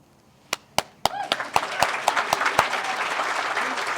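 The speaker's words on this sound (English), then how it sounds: "Yeah, you got to clap on that one" An audience claps at a school groundbreaking ceremony, starting with a few sharp separate claps that quickly swell into steady, full applause from a crowd nearby.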